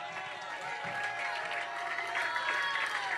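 Congregation applauding during an evening church service with an evangelist, steady broadband clapping from a crowd that continues throughout with voices mixed in.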